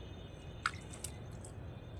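Fenugreek plants in a pot are watered a little at a time, giving a couple of faint, soft drips and trickles against quiet background hiss.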